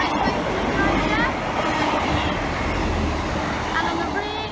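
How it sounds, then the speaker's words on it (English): A passenger train rolls through Dore and Totley station, a loud continuous rumble with rail squeal and wheel clatter that holds steady throughout, close by with faint voices underneath. "And here is your other train."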